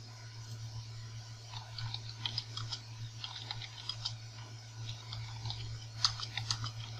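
Computer keyboard being typed on in quick irregular bursts of light clicks, close and fairly quiet over a steady low electrical hum.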